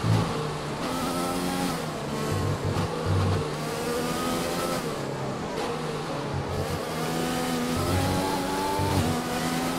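A Formula 1 car on hard tyres in the F1 2020 video game drones at high revs, its engine note rising and dipping through gear changes, steady and loud throughout.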